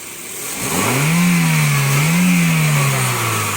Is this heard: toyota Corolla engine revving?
yes